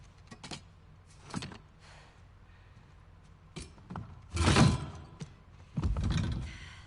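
Scattered thumps, scrapes and knocks as a door is barricaded in The Last of Us Part II, with irregular bumps building to louder dragging, clattering bursts near the end.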